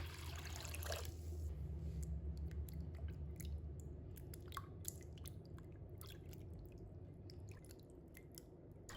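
Raw shrimp being rinsed and rubbed by hand in water to wash off the slime, giving soft wet squishing and splashing close by, steady throughout with sharp little drips and sloshes.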